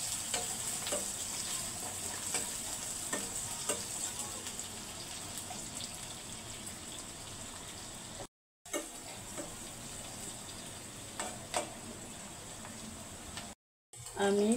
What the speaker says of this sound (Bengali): মরিচ এগুলো হালকা ভাজা দিয়ে নিলাম